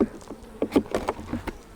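Honey bees buzz close by inside a honey super, a few quick overlapping hums and wingbeats in a brief burst.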